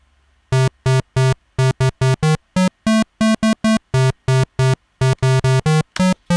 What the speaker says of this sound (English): turn the oscillator here to a square wave